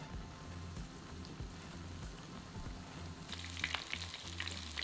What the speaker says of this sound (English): Once the oil's hot,